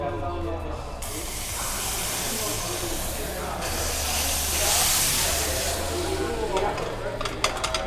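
A crepe flambéed with Grand Marnier hisses and sizzles in a pan, with a continuous close hiss and a bright flare of flame midway, while people talk nearby.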